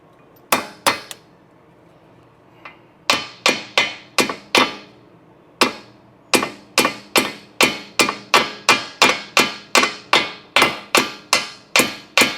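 Metal-on-metal hammer strikes driving brake pad retaining pins into the caliper of a 1988 Porsche 911, a sharp ringing tap repeated over twenty times, in short bursts at first and then a steady fast run, close and loud with no talking.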